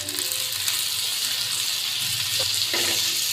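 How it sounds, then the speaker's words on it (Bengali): Chopped onions frying gently in a pan on a gas stove, a soft, constant sizzle with a couple of brief stirring scrapes near the end and no voices. "পেঁয়াজ কুচিগুলি হালকা ভেজে কিছুটা নরম করে নিব।"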